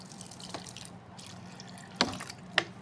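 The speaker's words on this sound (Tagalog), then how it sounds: "lagyan ko konting tubig" Water poured into a cooking pan while making sour fish with vegetables: faint trickling and a few distinct drips and splashes, the clearest two near the end, in a quiet kitchen.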